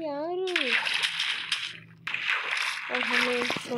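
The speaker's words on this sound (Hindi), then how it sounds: "और पानी आ गया यार" Water splashing in the Minecraft video game, two long bursts of splashy noise, loud and close, with short synthetic tones before and after.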